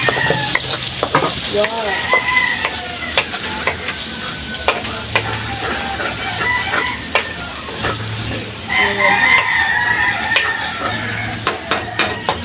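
Onions frying for creamy spaghetti sizzle loudly and steadily in a pan while a utensil stirs them, tapping and scraping the metal in quick clicks. A voice briefly exclaims once.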